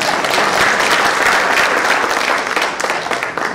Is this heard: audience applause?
yes